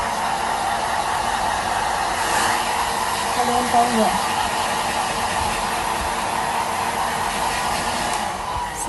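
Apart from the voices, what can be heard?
hair dryer blowing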